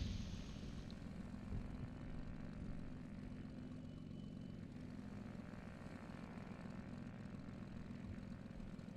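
A light aircraft in X-Plane 11 sits through its pre-takeoff engine run-up, the propeller engine droning steadily and fairly faintly with little change over the whole stretch.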